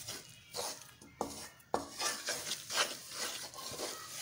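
Besan being mixed into sugar syrup in a pan off the heat for besan barfi, with a spoon scraping and knocking against the pan in uneven strokes, fairly quiet and close, with no voices.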